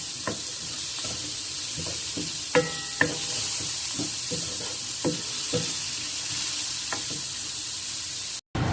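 Chopped onions fry in a pan until transparent, a loud, continuous sizzling hiss punctuated by occasional stirring knocks and scrapes of the spoon.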